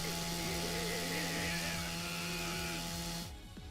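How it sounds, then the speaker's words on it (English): A chainsaw revving in the Yakuza 4 video game, a loud, steady, buzzing motor drone with a harsh whine that holds nearly unbroken, then drops off abruptly near the end. "That chainsaw was very loud."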